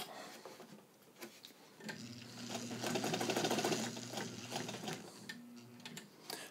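A Necchi BU sewing machine, made in Italy, sews a long straight seam: a steady mechanical whir builds after a quiet start, runs evenly for a few seconds, then slows with faint ticking and clicks around it.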